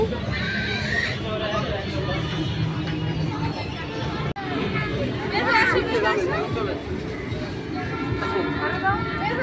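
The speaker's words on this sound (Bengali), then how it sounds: "এই যে ঘোড়া ঘোড়া," A horse whinnies at a busy city park in Dhaka, its neigh rising over constant crowd chatter and nearby voices, with faint hoof clops in the mix.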